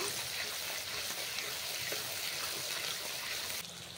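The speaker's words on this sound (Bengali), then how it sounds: "পেঁয়াজ কুচি দিয়ে দিয়েছি, ক্যাপসিকাম, কাঁচা লঙ্কা ভালোভাবে ভেজে নেব" Onion, capsicum and green chili frying in a pan for chili chicken, a steady close sizzle with faint stirring that runs on without pause, growing slightly quieter near the end.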